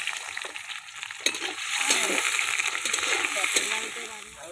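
Onion is tipped into a frying pan of potatoes in oil and stirred, giving a burst of sizzling with scraping strokes of a spatula, steady frying underneath and brief vocal sounds.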